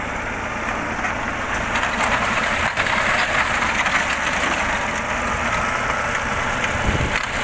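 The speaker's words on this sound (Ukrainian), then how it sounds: "Коробка грає на холостик, як ви бачите" A steady, loud engine drone from an idling T-150 crawler tractor with worn tracks, continuous and unchanging with a rough mechanical rumble throughout.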